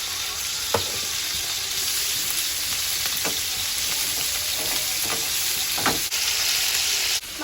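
Steady sizzling of potatoes and onion frying in hot oil, with occasional clinks of a spatula stirring the pan.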